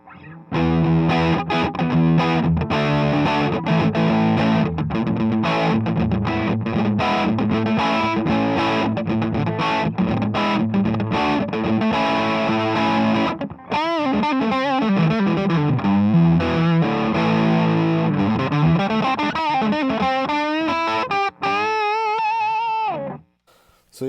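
An electric guitar runs through two effects pedals stacked together, giving a thick distorted, modulated tone with sustained chords and then wobbling bent notes, loud and continuous with no talk.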